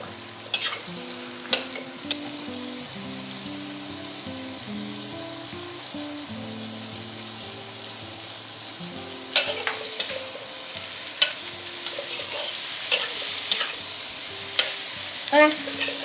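Pork with xianggan and celery stir-fried in a wok, a steady low sizzle with scraping stirs and a few sharp clanks of the spatula, busier toward the end, with background music and no talk.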